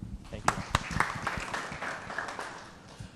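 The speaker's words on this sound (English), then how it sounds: "Let's have a big round of applause for Nathan for coming out tonight" Audience applause for a speaker at an evening talk on building the BIM workforce, a brief round of claps with a few sharp, distinct hand claps up front, settling into a steadier patter that tapers off.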